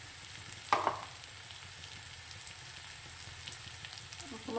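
Food sizzling gently in butter in a pan with turmeric and salt, a soft steady frying hiss with a brief stir or clink near the start.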